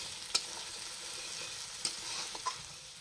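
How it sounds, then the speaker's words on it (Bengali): Ginger, garlic and onion fry in a pan with a soft, steady sizzle, and a few sharp clinks of a stirring utensil come as the tomatoes go in. No one speaks. "আদা, রসুন এবং পেঁয়াজ ঠিকঠাক ভাজা হয়ে গেলে এবার এতে টমেটোগুলি দিয়ে দিতে হবে।"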